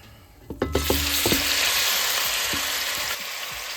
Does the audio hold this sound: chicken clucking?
no